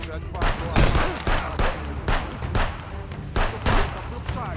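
Pistol shots ring out in the video game Contraband Police, several sharp bursts in quick irregular succession over game audio, loud and close, with a voice talking between them.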